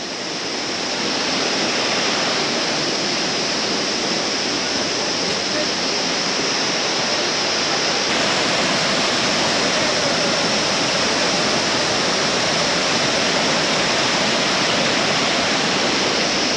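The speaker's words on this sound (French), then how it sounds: "il y a plein de tuyaux d'eau partout qui redescendent tout le long là" Water rushes down through many pipes along a mountain canyon, a loud, steady, broad roar that holds unbroken from start to finish.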